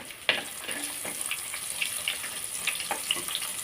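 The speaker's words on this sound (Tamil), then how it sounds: "உளுந்து கடுகு வெடிச்சு வருது." Urad dal and mustard seeds crackle and pop in hot oil while tempering for a curry leaf pickle, a steady close sizzle dotted with sharp little spits and bursts, no voices.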